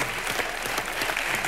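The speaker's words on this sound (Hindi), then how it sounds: "आप दोनों के लिए जोरदार तालियां हो जाएंगी।" Studio audience applause on an Indian TV comedy show, a loud, even roll of many hands clapping together with no voices over it.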